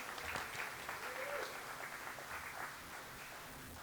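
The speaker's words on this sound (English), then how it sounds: "Let's clap for them." An audience at a parents' recognition event claps for donors, a soft, fairly distant patter of many hands that thins out and fades toward the end.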